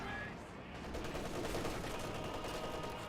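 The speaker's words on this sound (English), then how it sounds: "MG34 hitting the Oberstrassen." An MG34 machine gun firing in Company of Heroes 2, a continuous rattling burst blended with battlefield noise, dense and steady over three seconds with a voice faintly present.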